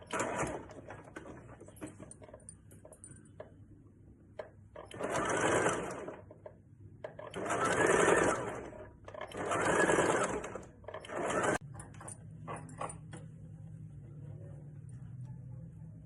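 Sewing machine stitching a princess cut blouse near the button placket, running in several short bursts of a few seconds each with pauses between, fairly close and clear.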